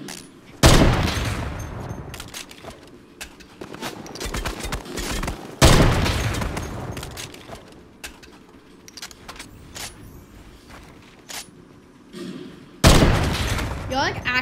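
Gunfire in a shooter video game: loud, sudden volleys of shots break out three times, with lighter scattered shots and clatter between them.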